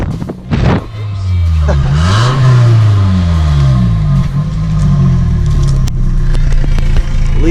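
A car engine with a new exhaust that has a smaller tip revs hard several times up close, the pitch sweeping up and down with a loud raspy exhaust note and crackles.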